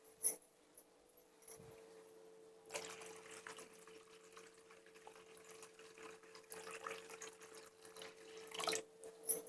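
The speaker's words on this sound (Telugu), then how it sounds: "వాటర్ పోసేసుకున్నాను" Water is poured into a cooking pot for biryani, a faint trickling and splashing that comes in bursts, quiet and close.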